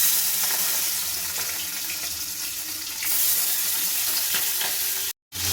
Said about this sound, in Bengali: এবার আমি অল্প অল্প করে দিয়ে চিংড়ি মাছগুলো, সমস্ত চিংড়ি মাছগুলোই আমি একসঙ্গে ভেজে নেব